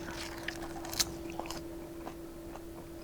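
Close-up bites and chewing on a wasabi leaf wrap give soft crunches and moist mouth sounds in a quiet setting, a few distinct bites spaced over a low steady hum.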